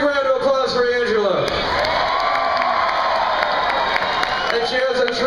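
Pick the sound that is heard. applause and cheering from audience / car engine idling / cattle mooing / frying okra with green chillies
applause and cheering from audience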